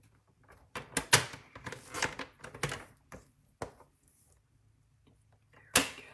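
Paper trimmer slicing down a small cardboard gift box, several crisp scraping cuts in short bursts with pauses between, then a final sharp snap; close and fairly quiet with no talking.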